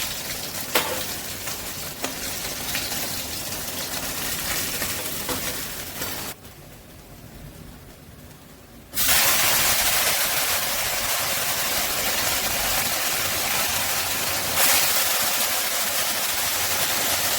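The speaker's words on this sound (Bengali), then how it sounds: "এই মাছগুলো আমি একই রকমভাবে ভেজে দেব" A second batch of fish frying in the same hot oil in a home kitchen for masala fish: a loud continuous sizzle that drops away briefly, then returns abruptly even stronger and stays steady.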